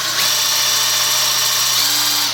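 A power drill bores into the steel fence of an Evolution Rage 4 metal chop saw, a loud, steady, high whine held close throughout with a slight pitch shift near the end.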